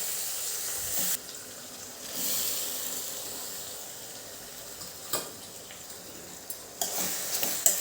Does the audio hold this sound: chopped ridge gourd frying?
yes